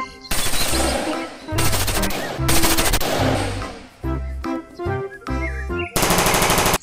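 A black toy SS1 assault rifle rattles out several electronic bursts of rapid gunfire, loud and close, broken by short pauses, with a final long burst near the end.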